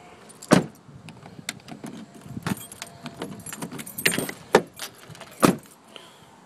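A Dodge truck's keys jangle and clink close by in bursts of metallic rattling, with a few sharper knocks mixed in and no voice.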